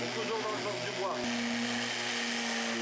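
An electric sander buzzes steadily against an old wooden adventurer's trunk during renovation, a continuous close vibrating whine with a slight pitch shift partway through.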